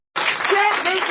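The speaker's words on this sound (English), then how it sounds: "And everybody clapping." An audience applauds in a recorded clip, a dense steady wash of many hands clapping that begins abruptly and holds at an even level, with faint voices mixed into the crowd noise.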